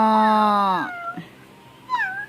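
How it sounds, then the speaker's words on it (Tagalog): A cat gives a drawn-out, loud meow up close, followed after a short pause by a softer second meow, heard alone in a house under construction with no talking. "Yan po may pusa."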